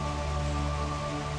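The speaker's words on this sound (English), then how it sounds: "I'm gonna try and wait out this rain" Rain falls as a steady, even wash of noise throughout, with a constant low hum beneath it and no talking.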